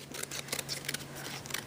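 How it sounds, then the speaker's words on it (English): Scissors cut paper along a light pencil line, giving a quiet series of crisp snips and rustles close by. "you're going to take your scissors and you are going to cut"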